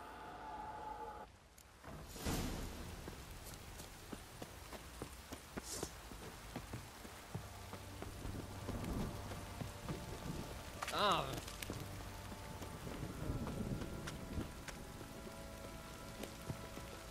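Steady rain hiss from a downpour in The Witcher 3, a constant wash across the whole stretch, with a few brief voice-like tones and game sounds rising over it midway.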